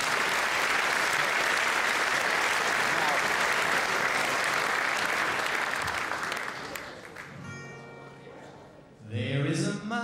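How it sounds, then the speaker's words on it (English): Loud, dense audience applause for a singer in Liverpool fills the first several seconds and then fades. A voice follows, sung or spoken, alone at moderate level. "I'd like to show a warm round of applause"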